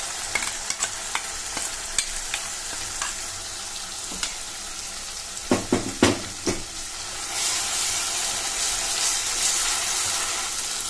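Blended onion gravy hits hot oil in a pan for mirchi ka salan, with a few sharp clatters and stirring knocks followed by a rising, steady close sizzle and frying hiss.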